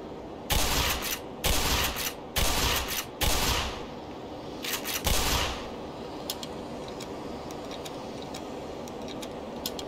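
Gunfire in the shooter game Black Mesa: several loud, separate bursts of rapid shots in the first half, then the firing stops and only faint ticking and quiet ambience remain.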